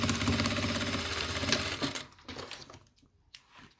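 A sewing machine stitches the lining of a toiletry bag with a loud, rapid, rhythmic mechanical clatter for about two seconds, then slows and stops, followed by a few quieter clicks.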